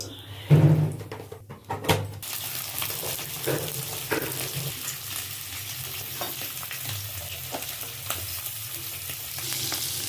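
Potatoes frying with a little salt in a kadai for aloo dum, a steady soft sizzle with occasional stirring scrapes and a couple of brief knocks near the start, fairly close.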